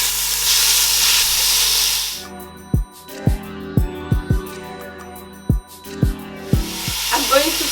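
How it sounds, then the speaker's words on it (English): Prawns dropped into hot oil with ginger and garlic for Nigerian party fried rice, a steady sizzle and hiss punctuated by a series of sharp, regular knocks of a utensil against the pan, no talk. "I'm going to fry this for like 5 minutes."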